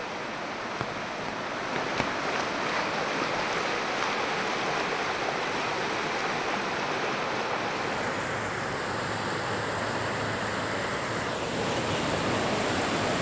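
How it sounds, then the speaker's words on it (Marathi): Heavy monsoon rain pouring down with a fast, swollen river rushing past in Ratnagiri, a dense continuous roar of water and rain, steady and loud throughout with no voices. "किती जोरात पाऊस कोसळतोय आणि पाण्याचा प्रवाह, नदीतील पाण्याचा प्रवाह किती भयंकर आहे"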